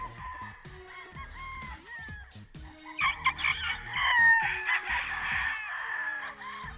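A sweater gamefowl rooster crows and clucks nearby, with several calls and a louder, sustained crow near the end, set against faint farmyard background sounds.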